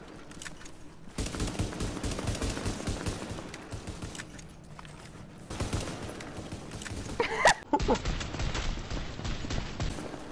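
Rapid gunfire bursts in The Division, a pistol firing repeatedly in loud, dense volleys with short pauses and a few sharp peaks, mixed with game noise and faint voices.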